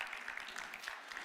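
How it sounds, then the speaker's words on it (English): Audience applause at a community gathering, a steady patter of many hands clapping at moderate distance with no voices over it. "You're not clapping for me"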